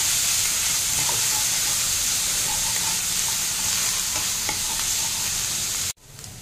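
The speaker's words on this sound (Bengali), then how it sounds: "দিয়ে এটা আমি ভালো করে কষিয়ে নেব" Fish and ground spice paste sautéing in a hot pan, a steady loud sizzle with occasional stirring scrapes throughout, cut off abruptly near the end.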